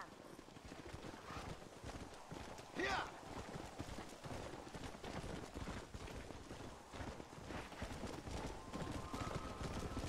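A horse in Red Dead Redemption gallops with steady, rapid hoofbeats under a dense wash of game ambience and gunfire, while people talk throughout.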